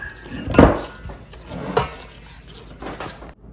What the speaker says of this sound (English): So then you just ladle this into your jars.